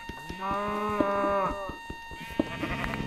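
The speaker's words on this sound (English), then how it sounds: "Oh, there's a cow right here." A cow in the video game Minecraft lets out a long, drawn-out moo that rises and falls. Sharp clicking steps and other game sounds tick steadily underneath, and a second lowing call starts near the end.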